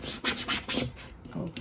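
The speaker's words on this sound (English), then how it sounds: "lay it down here and burnish it. Just scrape it back and forth" Vinyl being burnished onto transfer sheet with a scraper, a close, dry rasping scrape repeated back and forth in several short strokes of uneven rhythm.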